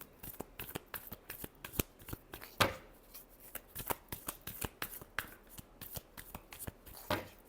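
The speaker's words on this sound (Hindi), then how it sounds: "Last shuffle." Tarot cards are shuffled by hand in a long run of crisp, rapid riffling flicks and slaps, close and fairly quiet, with brief pauses between bursts and no voice.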